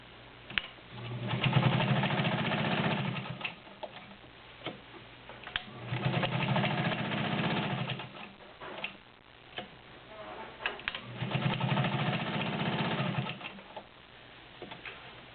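A vintage all-metal Dial A Stitch sewing machine stitches through ten layers of cotton in three rhythmic bursts of fast mechanical clatter, separated by short pauses, with a faint tick in the background and no talking.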